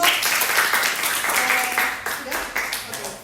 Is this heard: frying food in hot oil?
no